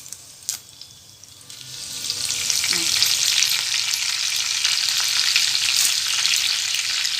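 Curry leaves dropped into hot oil with cumin for a potato bhaji, a few sharp clinks giving way to a steady, loud, close sizzle that holds to the end.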